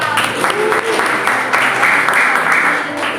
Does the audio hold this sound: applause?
yes